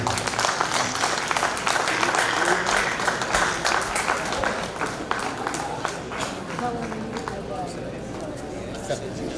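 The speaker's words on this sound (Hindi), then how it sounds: "तालियां बजनी चाहिए।" Applause from the audience at a CTAE alumni society meet as a guide and mentor is honoured, clapping dense and steady, with talk and crowd chatter running through it.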